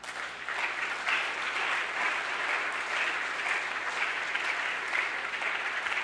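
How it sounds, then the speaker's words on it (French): A church congregation applauding during a service: dense, sustained clapping from many hands that fills the room evenly for several seconds without a break. "Est-ce qu'on peut acclamer le Seigneur?"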